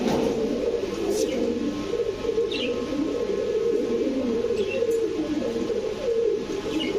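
Steady low cooing of male and female Indian Kaldam pigeons fills the clip, a continuous murmuring drone, with a couple of faint chirps above it.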